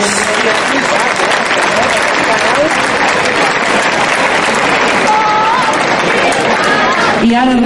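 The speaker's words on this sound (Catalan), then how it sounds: "Un fort aplaudiment pels balladors" Applause for dancers at the Manresa festa major in 2010, a dense, steady outdoor clapping crowd that holds loud throughout, mixed with chatter and voices.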